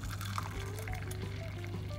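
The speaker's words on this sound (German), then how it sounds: "Und dann kommt dazu 1 Tasse heißes Wasser." Hot water pours from a cup into a bowl of egg whites, a steady close splashing stream lasting a couple of seconds over a low background hum.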